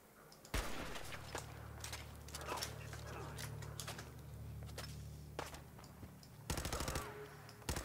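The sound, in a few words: gunfire in a firefight in a Fallout video game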